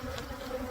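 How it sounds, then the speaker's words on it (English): Agitated honeybees at a hive during a varroa mite alcohol wash, a dense, steady buzzing drone up close with no pauses, no talking. "Look how aggressive the bees are."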